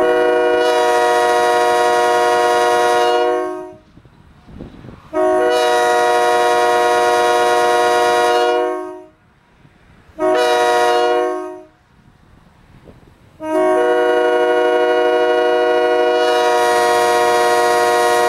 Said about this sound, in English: Very first honk.